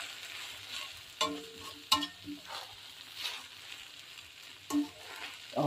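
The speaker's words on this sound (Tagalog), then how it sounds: "Tapos, haluin natin." Vegetarian Chinese-style stir-fry is stirred in a pan over a low, continuous sizzle, with several sharp clinks and scrapes of the utensil against the pan at irregular intervals.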